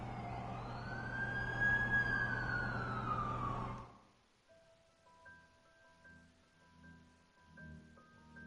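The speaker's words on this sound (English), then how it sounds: "That's the ambulance I called." Ambulance siren in a video game, a loud wailing tone sweeping up and down as the vehicle arrives, cutting off abruptly and leaving quiet electronic background tones.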